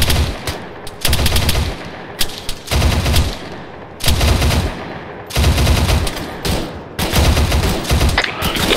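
Heavy automatic gunfire from guns in ARMA 3, loud and near, coming in repeated sustained bursts with brief gaps between them and no voices.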